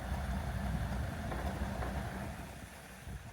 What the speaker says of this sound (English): It's actually idling not bad.